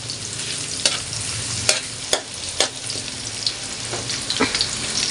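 Onions browning in a frying pan for adobong kangkong, stirred with a utensil: steady close sizzle under a series of sharp scrapes and clacks of the spoon against the pan, with no talking.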